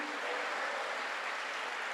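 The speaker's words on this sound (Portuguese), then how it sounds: "Se você crê, pode aplaudir." A church congregation at a Quadrangular service applauds, a soft, even wash of clapping that stays constant from start to finish with no voices on top.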